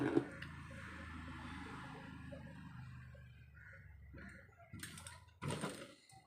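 Domestic sewing machine stitching a princess-cut blouse, a steady mechanical whir and rattle running low and continuous for several seconds, then stopping, followed by a few sharper clicks and handling noises near the end.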